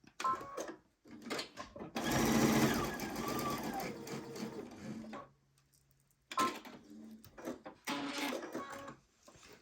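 A sewing machine securing stitches on a patchwork envelope-back pillow cover, running in several short close bursts separated by pauses, with brief handling noises between runs.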